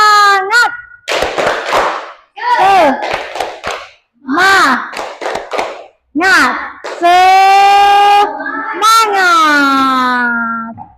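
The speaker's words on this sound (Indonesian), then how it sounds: "Kita tepuk semangat dulu. Biar semangat, biar enjoy. Tepuk semangat." A school class doing a rhythmic 'tepuk semangat' chant, voices calling in unison between bursts of sharp hand claps, loud and close, ending in a long drawn-out shout.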